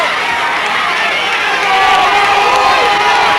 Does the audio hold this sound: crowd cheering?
yes